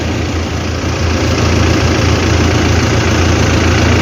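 A minibus engine idles in the city of Calapan, a steady, loud low rumble with constant vibration that swells slightly after the first second and holds evenly, with no voices.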